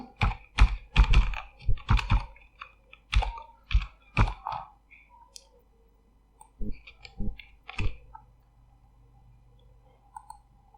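Typing on a computer keyboard, a quick cluster of close, crisp key clicks and thunks, then a pause and a few slower, separate keystrokes, with a quiet background hum.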